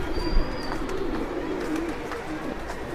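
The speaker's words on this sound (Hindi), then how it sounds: "तो जो अभी आपको कबूतर दिखाया ये उसकी फ़ीमेल है" Madrasi pigeons coo softly at close range, giving a few low, rolling calls over a quiet background murmur, with one brief knock near the start.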